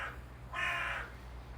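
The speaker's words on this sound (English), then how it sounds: "That noise you're hearing is a wild magpie." A wild magpie calls outdoors, two harsh raspy chattering bursts, the second longer and louder, over faint background noise.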